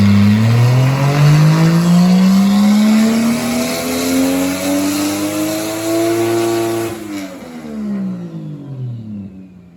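A 2JZ-GTE-swapped IROC Camaro engine revs hard on a dyno with a failing turbo, steadily climbing in pitch for several seconds, then dropping off sharply as the throttle is released, loud and close.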